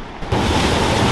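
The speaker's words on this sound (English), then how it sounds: "You can hear the sound of waves." Sea waves rolling onto a Spanish shore, a steady broadband wash that swells after a brief quieter moment and then holds loud and continuous, with no talking.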